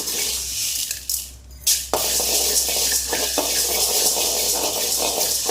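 Ingredients for pulicha keerai thokku, a Tamil sorrel-leaf relish, are dry-roasted and stirred in a pan, producing a steady rustling, crackling hiss with a brief dip and scrape partway, close and loud.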